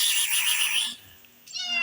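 A cat meows twice nearby, a long drawn-out call followed after a short pause by a shorter, wavering one.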